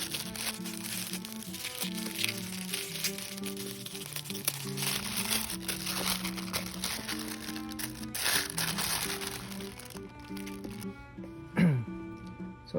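Plastic wrapping around a Saphir Beaute de Cuir mini travel box crinkles and rustles almost continuously during unboxing, close and moderately loud, with a tonal hum or music running underneath.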